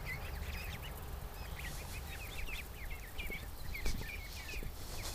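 Ducks quack outside a house, a flock of short nasal calls repeating in scattered clusters at moderate distance over a steady outdoor background hiss.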